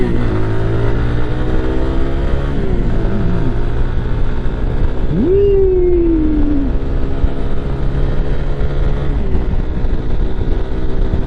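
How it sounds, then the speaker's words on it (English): Lifan KPX 250 dual-sport motorcycle cruising on the interstate, a steady loud engine drone with wind roar, a rising rev as it shifts up partway through, no talking. "I'm gonna hop up on the interstate for a little bit so you can see how this bike does on the interstate."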